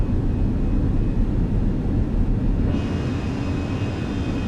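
Airbus A320 flaps extending in a Fenix A320 flight simulator cabin view: a steady loud broadband cabin roar of airflow and engines that shifts partway through, with a faint whine added as the flaps deploy.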